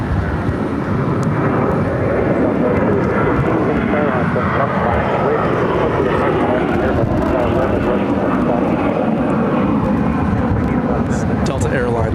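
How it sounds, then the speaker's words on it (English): A Delta Airlines Airbus A321-200 jet airliner roars steadily and loudly throughout at an airport, a broad continuous engine rumble with no break, while faint radio chatter may sit underneath. "Delta Airlines Flight 2116 headed to Minneapolis on an Airbus A321-200"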